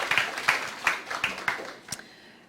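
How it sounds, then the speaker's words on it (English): Sparse, slow handclaps at a morning session of a summer institute, several distinct claps spaced about half a second apart, fading out after two seconds. "could we just give him a round of applause for his really exemplary leadership"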